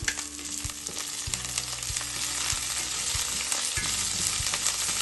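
Green chillies and curry leaves hit a pan of Kerala-style fish curry masala, giving a continuous close crackling sizzle with occasional spoon knocks and stirring scrapes, no one talking.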